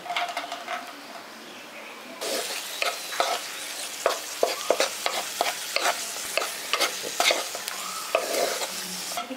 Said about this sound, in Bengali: এখানে কাজু বাদাম কিশমিশগুলো ভাজা হয়ে গেছে।